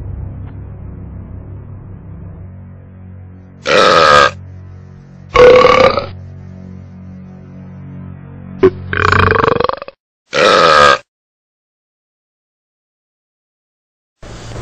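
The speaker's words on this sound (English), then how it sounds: "A very large burp." A series of very large, loud burps, four long belches spaced a couple of seconds apart, then a short gap of silence and one more starting at the end.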